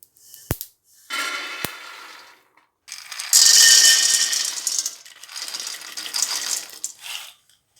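Roasted peanuts poured out of a pan, a dry rattling cascade of nuts in several separate bursts, loud and close with short pauses between pours and no talking.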